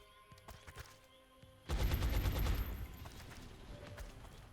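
Gunfire in the video game XCOM: Enemy Within: scattered faint shots, then a sudden loud burst of rapid fire that rolls on for about a second before fading into a lingering rumble.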